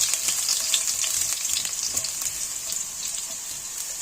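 Garlic sizzles steadily in hot oil in a pan for a dish of green beans with pork crackling, a close, even frying hiss broken by light popping crackles, with no talking.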